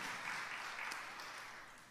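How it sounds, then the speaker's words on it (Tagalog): A church congregation claps during a Tagalog Sunday service, a soft, dense patter of hands that slowly fades over two seconds. "Pumalakpak sa Panginoon"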